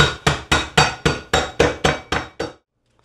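Almonds are crushed under a skillet in nine sharp, evenly spaced blows, each a hard clanking knock that rings briefly and decays, then the strikes stop; no talking.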